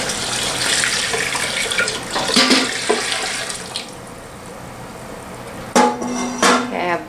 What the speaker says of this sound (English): I have all my jars in my canner, and then I need to add some water.